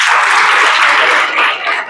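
A lecture hall audience breaks into loud, dense applause, many hands clapping at once in a continuous close roar for about two seconds before it starts to thin.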